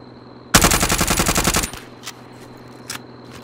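Enemy gunfire in a video game: a single fast automatic burst of about a dozen sharp, loud shots lasting roughly a second, followed by quiet with a couple of faint distant pops.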